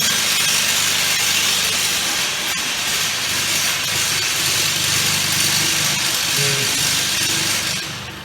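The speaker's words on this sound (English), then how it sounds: "and turn on the motor." A three-phase induction motor on a 415-volt supply runs up to speed with no load, giving a loud, steady hiss and hum that continues unbroken before easing off at the end.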